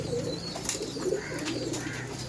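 Soft, low coos of male flying pigeons in a loft murmur steadily through the clip, with faint chirps and ambient noise around them.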